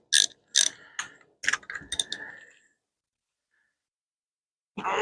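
Cornwell/Armstrong ratchet loosening cylinder head bolts on a 2005 Kawasaki Ninja ZX6R: a handful of sharp, close metallic clicks and a short ratcheting run, then near silence before another burst at the end.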